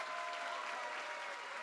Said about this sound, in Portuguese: Palmas para Ana Clara